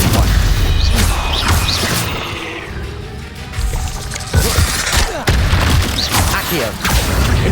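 Spell blasts go off in a Harry Potter video game, a run of loud booming impacts and whooshes with crashes and thuds, under a voice casting spells.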